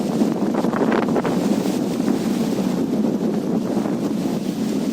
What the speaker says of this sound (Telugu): గాలి చూడండి అబ్బాబ ఏమవుతుంది, గాలి వస్తుంది